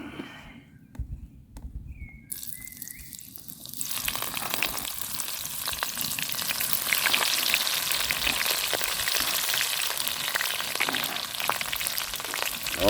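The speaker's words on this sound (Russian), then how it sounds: "Ну вот, масло разогрелось. Буду лук фритюрить." Onions deep-frying in hot oil on a titanium camp stove beside Lake Seliger, quiet at first, then a loud, dense sizzle bursts in and keeps crackling steadily up close, with no voices.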